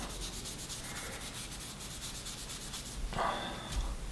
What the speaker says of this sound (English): Flitz metal polish and one of these makeup pads, and we'll kind of rub some of that oxidation off